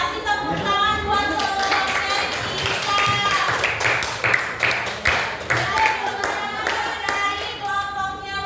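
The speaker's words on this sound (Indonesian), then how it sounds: "kasih tepuk tangan buat" Students clap in a school classroom, a cluster of sharp hand claps mixed with ringing tones and background voices, fairly close and moderately loud throughout.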